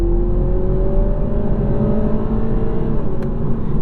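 A 2021 Toyota Supra 2.0 with 255 horsepower revs flat out toward 7,000 RPM, a loud, steady engine drone with rising tones heard from inside the car.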